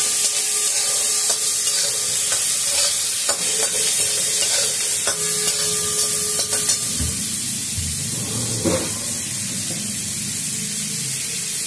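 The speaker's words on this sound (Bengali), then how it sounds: "এবার মশলাটা একটু ভালো করে ভেজে নিয়ে তাতে মিক্সিতে পেস্ট করব।" Whole spices and coriander leaves frying in a pan as they are stirred, a loud, continuous hiss with intermittent scraping and clicks, briefly rougher near the end.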